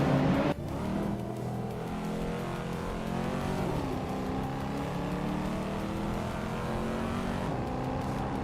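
Several race cars roar past in a nonstop video game race, with engines droning and shifting pitch continuously and one sharp transient near the start. The sound is loud and close, with no talk.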